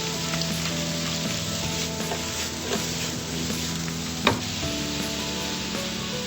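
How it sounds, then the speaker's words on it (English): Shrimp seasoned with salt and pepper searing in a pan, a steady close sizzle with soft stirring scrapes and one sharp clack near the end, no voices present. "sear the shrimp"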